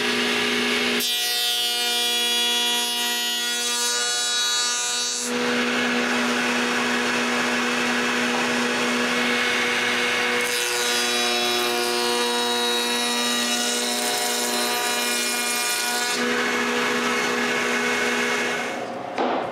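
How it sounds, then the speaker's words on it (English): A rabbet is cut in wood for a sewing box with dovetailed drawers: a loud, whining power tool runs throughout and rises into two long, harsher cutting passes, each several seconds long. "Then I need to cut a rabbet around it."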